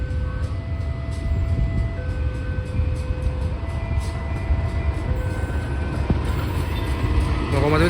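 A commuter train of the KA Komuter Bandung Raya line rumbles past the busy JPL 169 Kiara level crossing in Bandung, a loud steady roar with steel wheel clatter, crossing bell tones and a voice talking over it.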